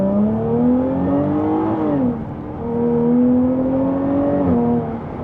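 A Jaguar F-Type sports car engine hums and revs steadily from inside the cabin while driving, pitch climbing, dipping at a gear change, then rising again under load.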